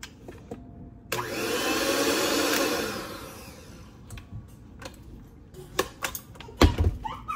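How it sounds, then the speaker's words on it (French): A hand mixer whips cream with powdered sugar in a steady whirring run of about three seconds, followed by quieter clatter and knocks as the mixing ends. "Et on fouette. C'est pas long avec une mixette."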